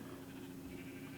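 A sheep bleats in Minecraft, a sustained nasal tone held over a steady hum of game sound, with no talking.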